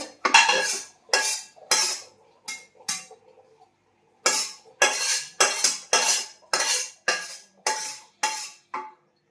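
Metal plates clanking together as boiled noodles are drained between them in a home kitchen, a series of sharp clattering bursts in irregular clusters with a short pause midway.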